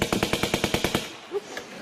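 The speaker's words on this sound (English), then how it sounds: "Now slay me with your buzzers." A quiz show buzzer set to a machine-gun sound effect fires a rapid, steady burst of about nine loud shots, then fades into a quiet tail.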